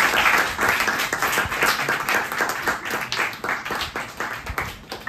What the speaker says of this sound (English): Let's clap for Mehra.